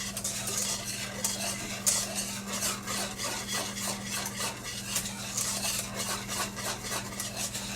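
A spoon working steadily through thickening pudding custard in a pot, a soft continuous scraping and rubbing close by, with a low steady hum underneath and no talk.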